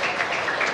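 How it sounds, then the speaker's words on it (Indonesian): Children in a classroom break into brief, dense applause, a steady wash of many hands clapping together without any pauses or voices. "Tepuk tangan untuk kita semua"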